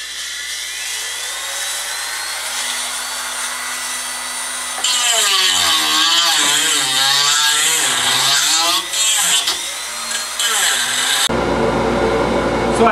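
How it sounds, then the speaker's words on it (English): A Dremel rotary tool grinds down a wood inlay with a high whine that rises and falls in pitch as it bites, loud and close, ending with a burst of broadband noise. "for the taking off the bulk, we're going to use, you know, the Dremel to get rid of the bulk of it."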